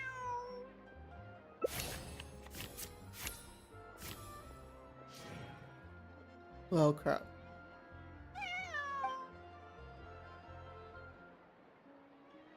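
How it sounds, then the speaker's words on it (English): A cat in Genshin Impact meows several times, with one louder drawn-out yowl midway and a few rising mews later, set against game music and sound effects while a voice speaks briefly. "This is my friend's cat."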